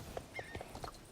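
Horse hooves running in a realistic horse role-play video game, a quick run of uneven clip-clop hoofbeats, moderately near, with a faint whinny-like tone in the middle.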